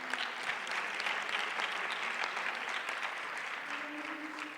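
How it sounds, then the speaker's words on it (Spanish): An audience applauds steadily for a panelist at a public forum on the right to information, a dense, even clatter of many hands at moderate distance that holds throughout without pause. "Un aplauso, por favor, para Raúl Frías"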